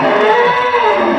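A dairy cow on a cattle farm lets out a single loud, sustained moo, close by and alone.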